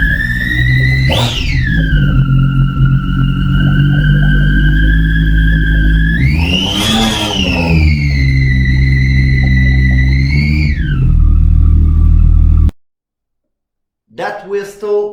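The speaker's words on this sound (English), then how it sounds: "Let's try to hear the engine." A Triumph Daytona 675 three-cylinder sport motorcycle engine revs up and down in two strong sweeps, with a steady rising-and-falling whine over a deep idle rumble, loud and close, then cuts out before a brief blip.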